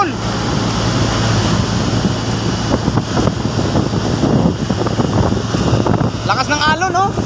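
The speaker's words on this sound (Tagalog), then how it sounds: "Lakas yung hangin." Steady, strong wind by the sea with rain approaching buffets the microphone with a continuous roar, while waves and a voice are heard faintly beneath it.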